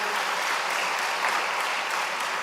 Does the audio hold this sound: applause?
yes